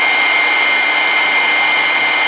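A heat tool blows hot air to melt embossing powder, a loud steady whooshing hiss that stays constant from start to finish with nothing else heard.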